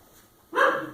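A wet dog lets out a single short bark partway through grooming, sudden and fairly close after a near-silent start.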